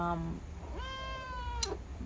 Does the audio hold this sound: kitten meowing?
yes